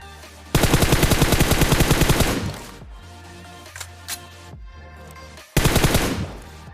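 Bursts of rapid automatic gunfire from the PUBG video game, loud and dense with several clustered volleys separated by quieter gaps filled with softer game sounds.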